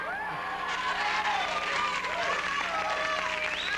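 Studio audience of an evening TV talk show applauding and cheering; dense, steady clapping fills the whole stretch, with occasional whoops and whistles rising above the roar.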